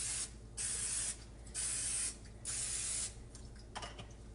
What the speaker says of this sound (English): I'm going to spray them with some coconut oil just so our muffins don't stick.